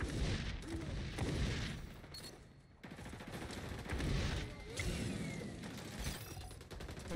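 A grenade blows up in the shooter game XDefiant amid a busy firefight, with heavy booms and rapid gunfire rattling continuously through the scene.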